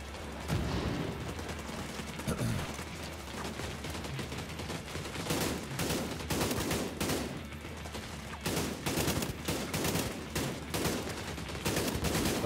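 Sustained gunfire in The Division 2, a PC shooter, with dense rapid bursts of rifle and automatic fire cracking repeatedly across the whole stretch, loud and close, with brief gaps between volleys.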